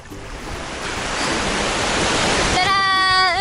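Surf at a Hawaiian beach the day after rain, a loud continuous wash of breaking waves that swells steadily, with a brief whistling tone rising over the roar near the end.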